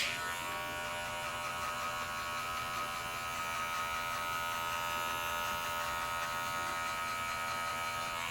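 A 0.5 hair clipper with an open blade hums steadily and closely throughout while cutting afro-textured hair, a constant electric buzz with no pauses and no talking.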